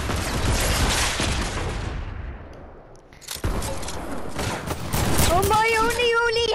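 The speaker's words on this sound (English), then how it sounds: "Bomb launchers!" Explosive bomb launchers fire in a video game in dense bursts of booming and crackling blasts, loud and close, with a short lull midway, while several players talk excitedly over the din.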